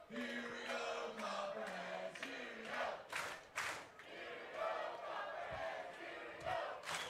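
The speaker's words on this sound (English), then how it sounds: "Just listen to the passion of the crowd." At a baseball game, a crowd in the stands chants and cheers in rhythmic, rising swells with sharp bursts of shouting, heard faintly and at some distance.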